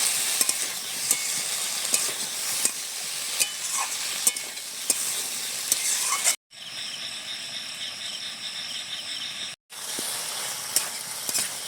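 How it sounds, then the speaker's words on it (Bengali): Ridge gourd stir-fried in a pan with salt and chilli powder, a steady close sizzle and frying hiss with scraping stirs throughout, briefly cut twice, with faint insect chirps in the night background. "লবণ দিয়ে দিচ্ছি, আর একটু লঙ্কার গুঁড়ো দিয়ে আবারও একটু কষিয়ে নিচ্ছি।"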